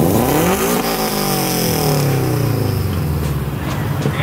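A loud Subaru WRX wagon exhaust revs hard up close, the engine note climbing then settling into a raspy, sustained drone.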